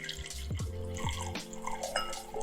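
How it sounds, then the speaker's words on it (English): Decanted red Bordeaux wine pours into a glass with close, gurgling glugs and a few light clinks, a short steady stream under a quiet room. "Let's see if I can give it a nice pour here."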